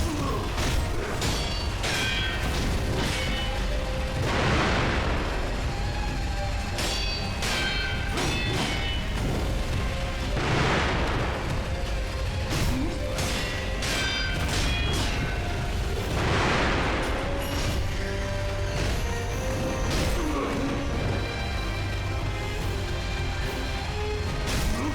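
Repeated booming explosions in the video game Sekiro: Shadows Die Twice, heavy blasts swelling every few seconds over a dense, continuous rumble of combat noise.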